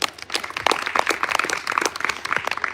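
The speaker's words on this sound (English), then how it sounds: "Give another round of applause" An audience claps and applauds after a student project presentation at a showcase event, a dense, lively patter of many hands lasting a few seconds.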